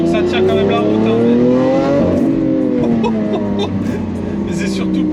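A Hamann-tuned Lamborghini Aventador engine revs up and down, a loud, close, rising and falling roar with a throaty howl that climbs to a peak and then eases off.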